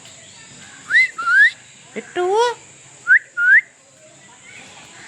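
An African parrot at Sakkarbaug zoo in Junagadh gives a series of short, loud, sweeping whistles in pairs, close by, with a brief spoken word and faint background noise.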